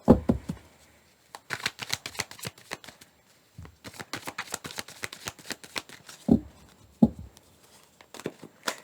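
Tarot cards shuffled by hand, with quick bursts of crisp riffling and flicking broken by short pauses and a few soft taps as the deck is squared, close and fairly quiet with no speech.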